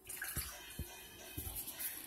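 Water spilling and splashing during a drinking challenge, a few soft splats over a steady trickling wash, faint and close, with no talking.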